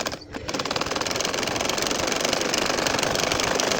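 A domestic sewing machine stitches a nakshi kantha quilt, running in a fast, continuous rattling whir after a brief start, close and fairly loud with no voice.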